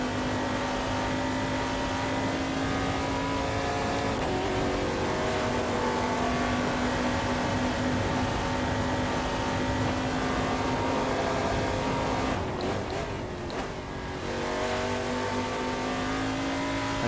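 A race car engine in a sim racing game holds a steady high drone for most of the run, then dips and stutters briefly as if braking or shifting before settling back to a constant whine.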